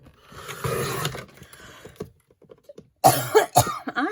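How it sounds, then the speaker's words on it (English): Several sharp coughs from a woman at a craft table, a few isolated bursts clustered toward the end, close and fairly loud after quieter shuffling. "I just decided to start coughing."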